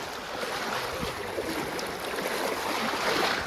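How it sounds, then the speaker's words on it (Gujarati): Continuous rushing water flowing from a canal into farm fields after heavy rain, a steady broadband roar with no talking. "બાજુમાંથી નહેરમાંથી એટલું પાણી આવે છે।"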